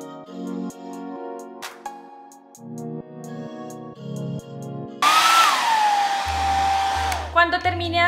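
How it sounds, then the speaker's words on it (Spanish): Hair dryer blowing while hair is brushed and dried, loud steady whoosh in the second half after a stretch of quieter tonal sounds, then brief bursts near the end. "lo llevo al lado opuesto totalmente así con el cepillo y lo voy secando"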